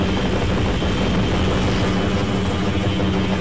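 Helicopter in the video game Half-Life: Opposing Force, a loud, dense, continuous rotor and engine roar that holds steady and fills the whole sound.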